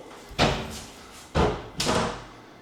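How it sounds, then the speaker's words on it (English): An old swinging kitchen door in a 1926 house thuds shut three times in close succession, each a loud, near wooden bang with a short decay and no talking between the hits. "Right here. Swinging door. Boom."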